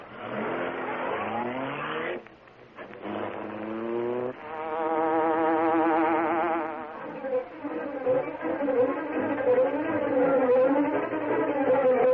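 A buzzing hornet effect from the Green Hornet old-time radio show rises and swells in a loud, continuous whine, shifting pitch like a revving motor, with a brief dip partway through and no talk over it.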